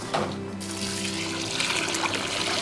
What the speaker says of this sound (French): Je mélange l'argile dans une grande quantité d'eau pour que toutes les particules puissent s'expandre.